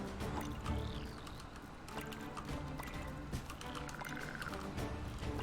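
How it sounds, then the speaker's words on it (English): Bubbling, gurgling water in the video game Skully, a continuous close watery churn with small pops and splashes, heard under faint background game sounds. "It sounds like spores happening in that water."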